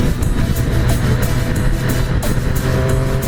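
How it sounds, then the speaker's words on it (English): A 2018 Triumph Street Triple RS 765 engine revs hard in fourth gear, loud and close, with a dense engine roar and rhythmic pulses and rising tones as it pulls. "This one revs. In fourth gear. Listen to this boost."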